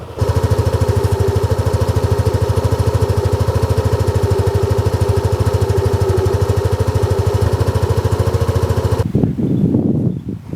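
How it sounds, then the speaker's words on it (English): A motor scooter engine, a Honda Zuma or PCX, runs at a steady, rapid idle, loud and close, then cuts off abruptly near the end. "let's do a startup of each scooter and see how they each sound"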